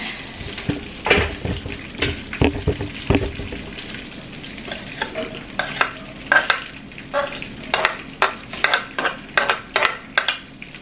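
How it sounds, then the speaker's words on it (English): Garlic frying in a pan gives a steady, close sizzle broken by a run of sharp clicks and scrapes from stirring, with no talk over it. "So next goes in me garlic."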